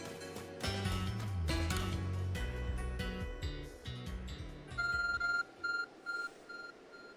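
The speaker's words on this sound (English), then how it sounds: "Your arc phone is beeping." An Arc Phone beeping in Pokémon Legends: Arceus, a short repeated electronic tone sounding about five times in a steady pulse after a loud burst of game music and effects.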